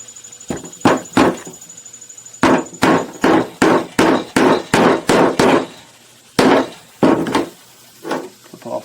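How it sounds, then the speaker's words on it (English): A hammer drives a nail into a wooden beehive frame with sharp, loud close blows in quick bursts, about fifteen strikes with short pauses between groups. "I'm going to put the nail right into the frame"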